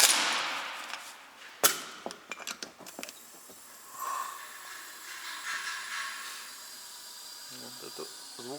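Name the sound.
air escaping past piston rings, Mercedes OM501 V6 engine cylinder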